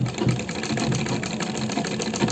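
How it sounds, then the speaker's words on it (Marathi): A sewing machine stitches a straight seam with a fast, steady mechanical whir and rhythmic needle clatter, close and continuous, with no talking. "ही सरळ शिलाई घेताना बघा मी एकदम स्ट्रेट शिलाई घेते ही"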